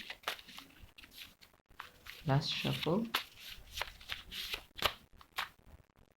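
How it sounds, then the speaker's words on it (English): Cards are riffled and shuffled in quick flurries of crisp, papery flicks, with a voice speaking briefly in the middle. "last shuffle"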